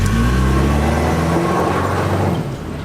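A tiny Toyota truck's engine screams at full throttle in a field on a yak ranch: a loud, steady, close-up drone with strong harmonics that climb slightly, then ease and drop near the end.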